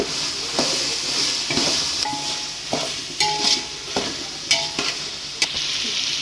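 Mushrooms frying in hot oil for a mushroom biryani, with a steady sizzle beneath repeated scrapes and clinks of a spoon stirring against the pan, close and fairly loud, with no voices.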